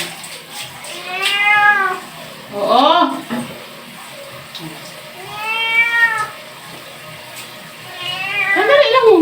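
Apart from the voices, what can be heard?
cat meowing while being bathed with water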